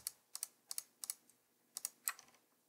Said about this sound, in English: So I'm command clicking now to get the rest of them.